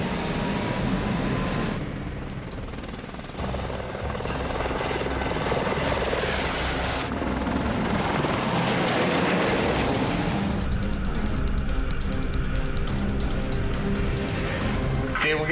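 A helicopter being loaded for a smoke call at a fire crew base, its engine and rotor roaring steadily and loudly throughout, close by, with wind-like rumble and no clear speech.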